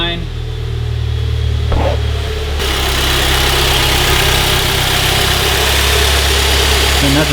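A Mazda NC Miata with an AEM cold air intake idles steadily close by, its low engine drone even and continuous, with a faint shift in tone partway through.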